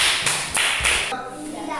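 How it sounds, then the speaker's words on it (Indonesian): Classroom applause for a group of students during a geometry lesson, several bursts of clapping in quick succession followed by a brief murmur of voices, fairly loud and close. "tepuk tangan buat kelompok A."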